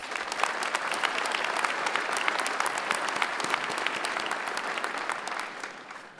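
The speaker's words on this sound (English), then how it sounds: "Let's give him another round of applause." Sustained audience applause at a technical college fall commencement ceremony, a dense even wash of many hands clapping that holds steady for several seconds before easing slightly at the end, with no talking over it.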